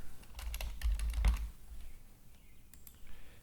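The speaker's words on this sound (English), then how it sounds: "Type in the address of the router." Typing a router address on a computer keyboard: a short run of quick, close key clicks with some heavier thumps, then a few scattered taps as the typing trails off, no voices.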